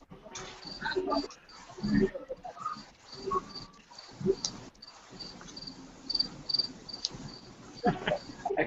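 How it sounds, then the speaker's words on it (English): Crickets chirping at night, a steady high trill running through the whole stretch beneath relaxed conversation from nearby voices, with the insects soft and in the background. "I can hear the crickets."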